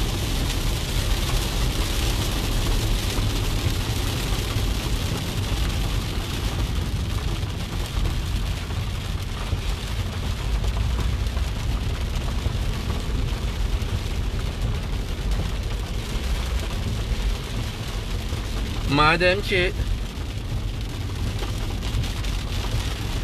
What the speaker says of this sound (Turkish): Allah'ın yağmur rahmetini sizinle paylaştık